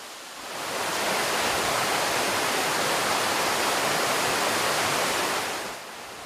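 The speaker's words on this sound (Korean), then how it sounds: "무등산 자락에 들어서니 시원한 계곡물 소리가 마중을 나왔습니다." A mountain valley stream on Mudeungsan rushes with a dense, steady hiss of flowing water that swells in, holds evenly and fades slightly at the end.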